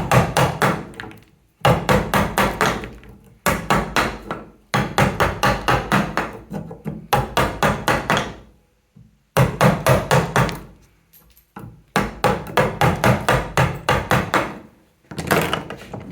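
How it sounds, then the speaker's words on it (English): Sharp wood chisel struck to cut into unsupported wood in carpentry work: repeated bursts of rapid, close, loud mallet-driven knocks and cuts separated by short pauses. "Nice sharp chisel, that's quite a nice thing to be doing actually."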